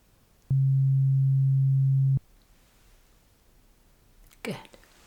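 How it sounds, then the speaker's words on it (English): A steady pure beep tone from a hearing test sounds alone for about a second and a half, clean and sustained, followed by quiet, then a brief soft rustle near the end. "Now I will ask you to tell me when you hear the second beep sound."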